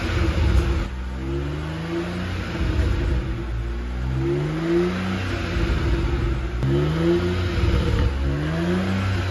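A BMW 135i car engine runs steadily nearby, with several rising revs sweeping up and settling back over a constant mechanical hum.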